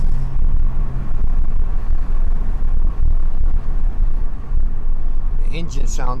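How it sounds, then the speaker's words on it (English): A Mercedes-Benz W126 engine drones steadily while driving, with loud low rumble and wind noise throughout, and a voice briefly speaks near the end. "The engine sound is some sort of therapy to me."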